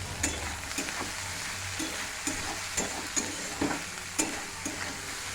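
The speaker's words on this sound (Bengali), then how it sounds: "ভাজা হতে থাকে।" Vegetables for hakka noodles stir-fry in a small wok, with a constant close sizzle under regular scraping and knocking strokes of a spatula.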